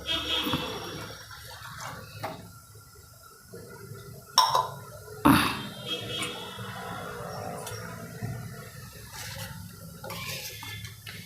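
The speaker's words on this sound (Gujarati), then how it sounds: "આપણે થોડુંક પાણી એમાં નાખશું" Water pours into a cooking pot of Gujarati dahi dhokli, a steady wash of flowing liquid with a couple of sharp clunks from the pot partway through.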